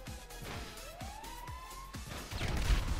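An ambulance siren in GTA V Online, a rising wail under rhythmic thuds and impacts, with a burst of louder crashing toward the end.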